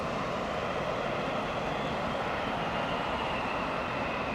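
An airliner touches down on a rain-soaked runway during intense rain, a steady broad rushing roar of engines and spray, moderately distant and unbroken, with no voices.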